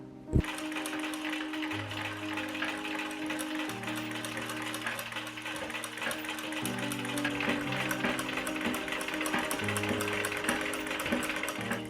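A sewing machine stitches a taffeta ruffle for an 1897-style Victorian petticoat, running in a steady, continuous mechanical whir with regular needle ticks and short pauses and restarts, close and moderately loud.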